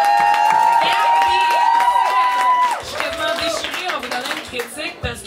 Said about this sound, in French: On applaudit pour ça, mesdames et messieurs.